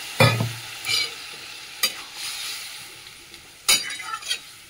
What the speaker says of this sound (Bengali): এবারে সেদ্ধ হওয়ার মতন পরিমাণ মতন জল দেবো, আর মাখা মাখা হবে।